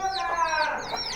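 Native deshi chickens cluck in a steady, overlapping flurry of short calls close by, with no voice over them.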